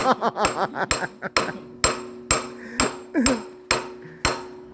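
Large hammer striking a metal pin in a workshop, a series of sharp ringing blows at a steady rhythm, loud and close, with a brief voice in between.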